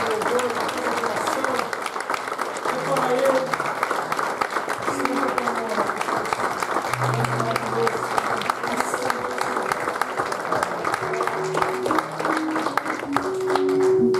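A church congregation applauds in a sustained wave of clapping and crowd noise during a worship service, with soft sustained musical tones underneath and voices now and then.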